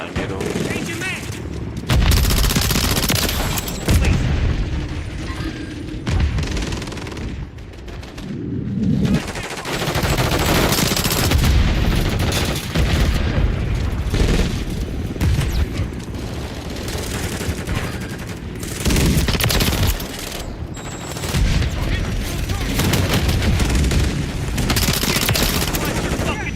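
Call of Duty gunfire: sustained heavy automatic bursts and rapid shots fill the stretch nearly nonstop, loud and close, with brief pauses between volleys and occasional shouting voices.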